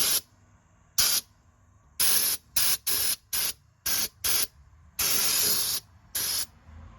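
A spray gun hisses out clear coating onto a Ford F-150 frame in about eight sharp bursts of varying length, loud and close, with near silence between each spray.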